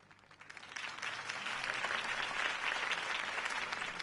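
Applause from a crowd swells up after a quiet start and continues as dense, steady clapping.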